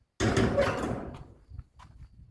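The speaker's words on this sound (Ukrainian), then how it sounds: "Закрию фірточку, щоб оті птахи нам не помішали." A small garden gate swings shut with one loud knock that rings briefly and fades, followed by quieter rustling in the background.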